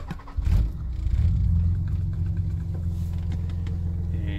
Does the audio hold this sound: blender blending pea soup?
no